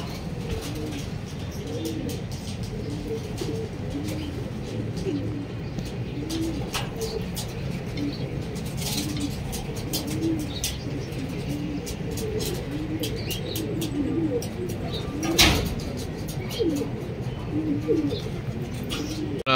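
Racing pigeons coo repeatedly at their loft during a club training release, a soft rolling low murmur from several birds. Sharp wing claps and clicks break in now and then against steady background noise.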